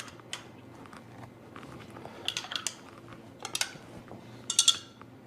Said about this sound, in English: we'll kind of stir these up real quick so you can get a better look